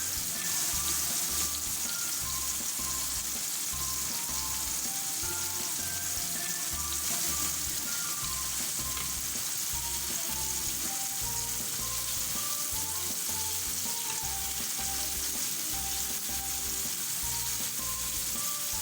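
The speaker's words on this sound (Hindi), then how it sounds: "अब हम टर्न कर लेंगे अपने टमाटर।" Tomatoes fry in a pan as they are turned for gola kabab, a continuous loud sizzle with soft rhythmic scraping and stirring pulses running beneath it.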